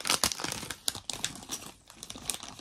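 A small plastic packet holding mushroom-shaped stitch markers is crinkled and torn open close by, with bursts of crisp rustling and crackling and no talk.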